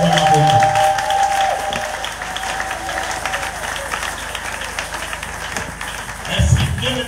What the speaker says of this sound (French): Bete na ngai maboko.